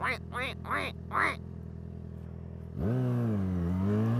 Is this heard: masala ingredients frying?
no